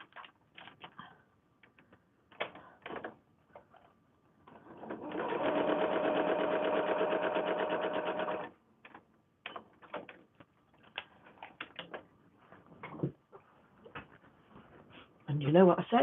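A sewing machine stitches a foundation paper pieced kimono quilt block in one steady, close run of about three and a half seconds, with sparse handling clicks and a voice before and after.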